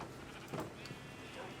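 Minecraft sheep bleating while being sheared, brief bleats and clicks at moderate level mixed with faint voices.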